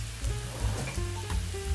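Chopped onion, tomato and green chilli fry in oil in a pan for egg bhurji, giving a brief, steady close sizzle with faint stirring scrapes and no speech.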